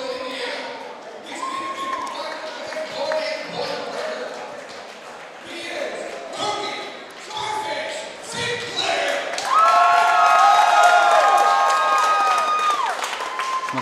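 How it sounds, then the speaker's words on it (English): A cage-fighting crowd cheers for the Subdue fighters, a broad, steady roar that swells louder near the end and runs beneath continuous commentator talk. "They're cheering for all the Subdue guys."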